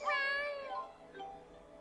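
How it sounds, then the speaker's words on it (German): A cat gives one clear, close meow that falls in pitch, followed by a softer second meow, set against quiet background hum. "warte mal, meine Katze."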